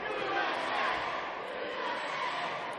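A wrestling crowd in an arena in Hazleton, Pennsylvania chants steadily as a dense, continuous wash of massed voices, loud and unbroken throughout.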